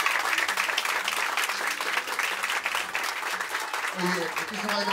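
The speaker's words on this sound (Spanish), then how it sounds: "Y el aplauso a todos ustedes para esta familia." A live audience applauds a family, loud and steady clapping from a crowd throughout, with voices speaking and cheering over it near the end.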